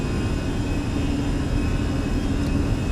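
An Airbus A320 in Microsoft Flight Simulator rolls down the runway for takeoff, a loud steady jet-engine roar with rumbling low end that holds constant throughout, no talk over it.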